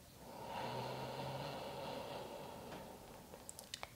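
Slow, audible yoga inhale drawn in through the nose during sun salutations, a soft airy rush lasting a couple of seconds, followed by faint clicks.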